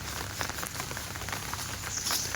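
Steady rain patters down in a jungle area in a dense, even hiss, with scattered drops tapping on nearby surfaces throughout.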